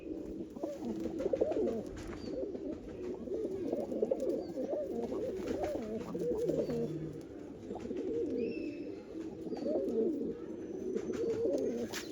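A flock of blue-checkered pigeons coos continuously up close, layered soft throaty calls rolling on with no voices, faint chirps occasionally above.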